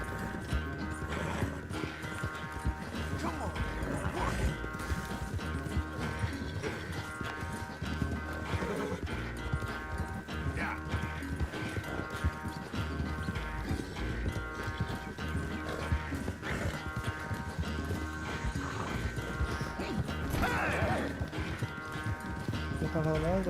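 Horse galloping in Red Dead Redemption 2, with steady clip-clop hoofbeats and repeated neighs and whinnies over game sound and music; voices talk throughout.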